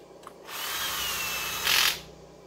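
Cordless drill on a low clutch setting tightening the cam caps on a 1989 Yamaha XT350 engine, one close, steady whirring run of about a second and a half that briefly rises in pitch and loudness near the end.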